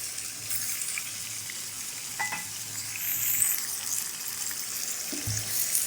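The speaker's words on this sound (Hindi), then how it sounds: "चिकन को इतना फ्राई कर लेंगे कि इसका कलर चेंज हो जाए" Chicken pieces fry in a kadhai with a continuous soft sizzle and crackle at moderate level, with a few brief clinks of utensils against the pan.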